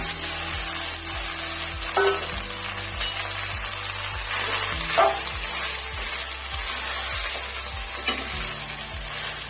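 Rice frying in a pan with spices and dried chillies, stirred steadily, gives a continuous close sizzle with scraping strokes and soft clinks throughout, no voices present.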